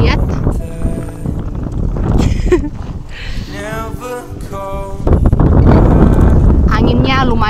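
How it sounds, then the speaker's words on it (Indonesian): Strong gusting wind buffets the microphone at a mountain viewpoint on Gunung Mutis in Timor Tengah Selatan, roaring continuously under people talking nearby. "Anginnya lumayan ya"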